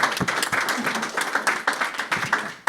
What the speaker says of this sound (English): And thanks to Senator Baldwin, which deserves a round of applause for being a real advocate for transit across